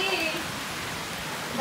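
Steady rain pours outdoors, a dense continuous hiss of drops that stays even and fairly loud from start to finish, with no clear words spoken.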